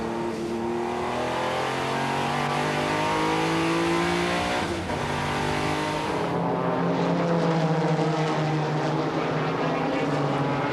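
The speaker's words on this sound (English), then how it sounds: "On board with Bruno Giacomelli in the car." Onboard a 1995 Porsche GT race car at the Nürburgring in a BPR endurance round: a loud, steady engine drone holds near throughout, with a gear change shifting its pitch partway through.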